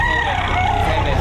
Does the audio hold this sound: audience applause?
no